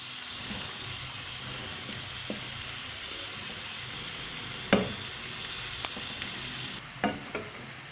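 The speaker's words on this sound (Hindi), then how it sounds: "अब हम चिकन को ब्राउन करेंगे।" Chicken pieces browning in a pan over a medium flame give a steady, close sizzle, broken by a few sharp clinks and scrapes of stirring.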